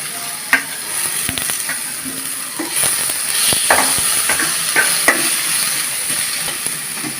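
Onion, garlic and tomato frying in a pan for a fish and cucumber curry, a loud continuous hiss and sizzle with scattered clicks of the spatula stirring, close and without speech.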